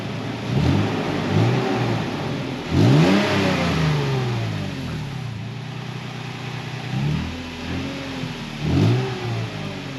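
A Toyota FJ Cruiser engine with a Borla exhaust runs close by, a deep, fairly loud rumble. It rises in repeated revs every few seconds and settles back to idle between them.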